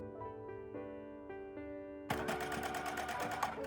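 A sewing machine stitching a ruffled tablecloth: at first slow, separate needle strokes with a tonal motor hum, then a sudden jump into fast, continuous stitching that runs loud and close to the end.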